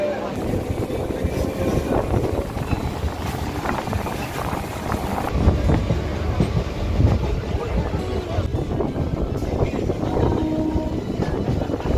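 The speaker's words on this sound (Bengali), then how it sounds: "এই মুহূর্তে আমাদের ট্রেন এসে দাঁড়িয়েছে কিন্তু সোনারপুর জংশনে" A Canning local train standing at Sonarpur Junction, its steady low rumble and carriage noise running continuously, with voices murmuring in the background.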